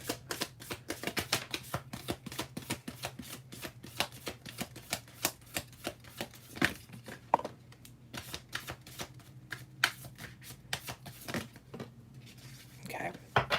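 Reading cards being shuffled and pulled during a live card reading, a long run of rapid, crisp riffling snaps and slides close by, with no talking.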